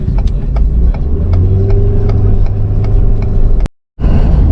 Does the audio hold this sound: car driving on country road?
yes